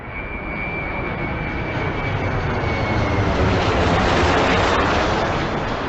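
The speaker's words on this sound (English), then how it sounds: "You've got a very clear aircraft noise and it exceeds the threshold of 70 decibels" An aircraft flying overhead, captured by a noise monitoring terminal, produces a loud, steady broadband roar that swells slightly toward the middle and exceeds a 70-decibel threshold, with no voices present.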